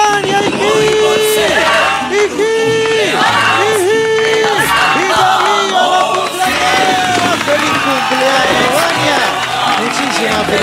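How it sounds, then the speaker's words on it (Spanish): Crowd at an in-person birthday serenade cheering, clapping and shouting together, loud and sustained, with voices and music-like tones mixed through the noise. "Bueno, un aplauso para Vania, señor!"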